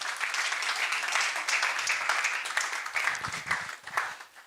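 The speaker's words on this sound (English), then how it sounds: "Can we clap for everybody?" Audience applause at a World Asthma Day ministry gathering, continuous dense clapping from a crowd, fairly even in level with a slight tapering toward the end.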